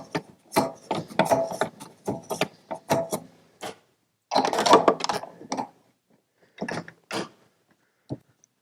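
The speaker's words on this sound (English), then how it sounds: "take your 5/8 wrench, tighten this bulkhead fitting back in." A 5/8 wrench tightens a bulkhead fitting on the particulate filter inlet of a Picarro analyzer. The result is a run of close, dry metallic scrapes and ratcheting rubs in bursts, with pauses between and a few isolated clicks near the end.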